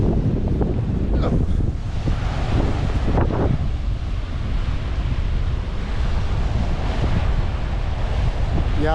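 Strong, persistent wind at the seaside buffeting the microphone, a loud continuous roar with heavy gusty low rumbling and the wash of surf beneath it, with no break throughout.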